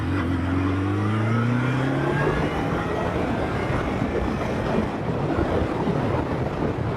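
A 1979 Kawasaki KZ motorcycle engine revs and screams during a ride, loud and close, its pitch sweeping upward and then dissolving into heavy rushing wind noise.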